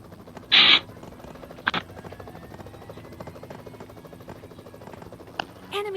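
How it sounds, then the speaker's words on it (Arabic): Helicopter in the PUBG Mobile game, a steady low rotor drone running throughout with brief louder bursts of game effects over it. "انا باخذ هليكوبتر"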